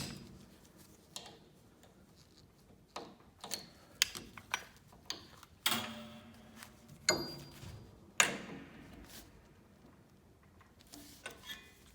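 A tuning pin being turned to tighten a newly installed string on an upright piano, with sparse metallic ticks, clicks and ratcheting creaks spread out over quiet stretches, close and fairly soft.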